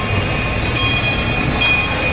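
A small amusement park train at Adventure City passes close by, a steady broad rumble with faint wheel squeals and clicks running throughout, no talking.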